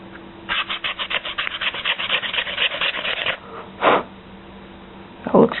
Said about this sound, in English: take the sander and just sand the edges on each side of the slot